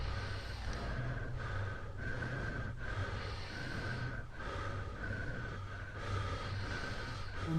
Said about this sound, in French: Cette bande sonore réunit donc les souffles qui étaient préenregistrés en amont.